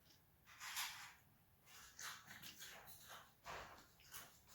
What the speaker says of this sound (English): If you hear crunching in the background, that's my dog eating food